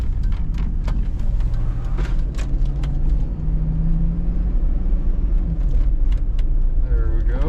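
Hummer H2, 22 years old, driving on a normal road spin: a steady low engine rumble and road noise from inside the cabin, with mild rises in pitch as it pulls away and occasional clicks and creaks.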